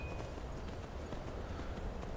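A horse's hooves clattering in the video game Skyrim, a brief run of quick, muffled hoofbeats under a steady noisy wash of wind or ambience, with no voices.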